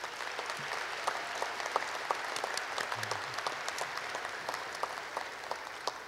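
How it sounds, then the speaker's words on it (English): An audience applauding after a speech at a ceremony, a steady, dense patter of many hands clapping at moderate distance, without talk. "Can we give him a round of applause, please?"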